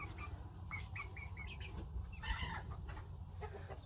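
Chickens clucking inside a homestead coop, a run of short repeated clucks close by with some soft rustling, faint and steady with no talk.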